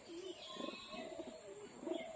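Two pigeons of a western kalsira pair coo softly in repeated low rolling phrases, close by and fairly quiet, with a steady high background hiss.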